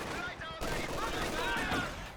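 Bursts of MG42 machine gun fire in the World War II strategy game Company of Heroes 2, dense battlefield crackle running steadily through the moment amid other combat noise.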